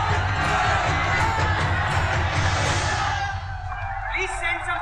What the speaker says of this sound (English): There's a huge crowd outside.